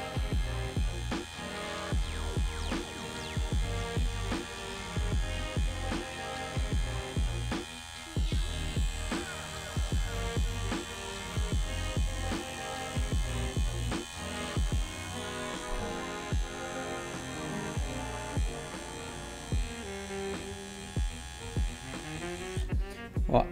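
A hair clipper rakes and blends a haircut contour, giving a steady close electric buzz with many short textured strokes throughout and no talk.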